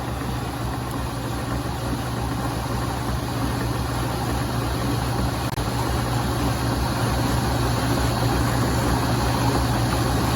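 A homemade tumbler's electric motor runs continuously with the drum rotating on its bushings, producing a steady, loud, close mechanical hum with a low droning tone and no pauses or talking.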